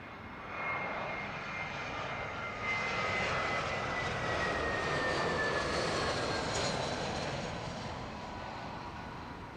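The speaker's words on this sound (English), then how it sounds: "Dark Dreamliner looking pretty good, lining itself up for an arrival." A Boeing 787 Dreamliner approaching to land at Heathrow produces a steady, distant engine roar with a whining tone that swells slightly in the middle and eases toward the end, with no talk.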